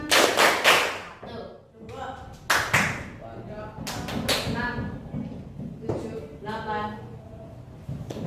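Students clap hands during a classroom counting game, several sharp claps landing in an irregular rhythm amid lively voices and chatter from the group.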